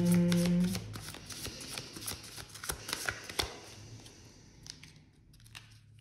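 Oracle cards are shuffled by hand to draw one, a quiet close run of papery riffles and taps lasting several seconds and fading toward the end, without speech.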